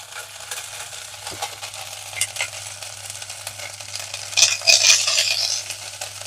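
Steady sizzling of ingredients frying in a pan while cooking dondakaya pesaru pappu, a soft continuous crackle that grows louder near the end, with a low hum underneath and no talking.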